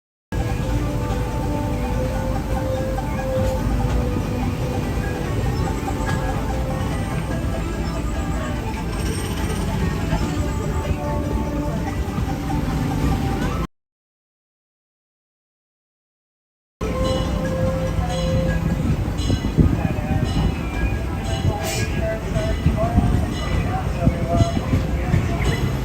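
Disneyland ride train arriving at a station, a continuous rumbling rolling drone with a loud announcer voice over it, cut by a few seconds of dead silence before the rumble and talk resume.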